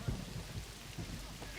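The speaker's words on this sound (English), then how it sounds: "The storm was coming right at them" Heavy rain pours steadily in a thunderstorm, a dense wash of noise with low rumbling underneath, loud and continuous throughout the short stretch.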